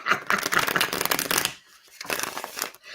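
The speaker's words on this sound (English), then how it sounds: "I almost shuffled these cards wrong again" Tarot cards riffled and shuffled by hand at close range, a rapid papery flutter in two bursts separated by a brief pause, with no talk.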